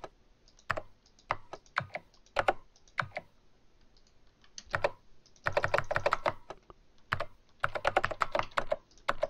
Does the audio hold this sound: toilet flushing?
no